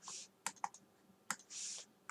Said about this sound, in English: I'm doing everything right except typing it in on the calculator